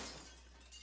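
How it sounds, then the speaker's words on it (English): Glass shatters in the Nancy Drew: Secret of Shadow Ranch video game, a short, loud burst of breaking and tinkling shards that quickly fades. "Sound of breaking glass!"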